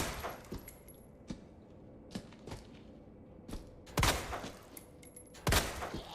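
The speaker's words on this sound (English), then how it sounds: "see how many headshots I'm using on this guy and it's still not down" Spaced gunshots in Resident Evil 2 Remake ring out one at a time at irregular intervals, fired into a zombie, with two louder, sharper blasts toward the end and quiet room tone between them.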